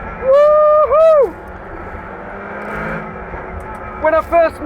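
A 1,233 bhp Czinger 21C hypercar with a 3D-printed chassis revs hard in fourth gear, its engine note rising and falling in two loud, high-pitched bursts with a steady drone between them.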